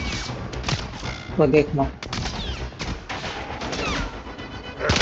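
Rapid gunfire from Warframe landing headshots on enemies, busy bursts of shots and impacts layered with game effects, with someone talking over the action.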